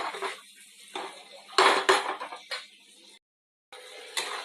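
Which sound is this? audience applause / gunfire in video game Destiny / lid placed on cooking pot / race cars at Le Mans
lid placed on cooking pot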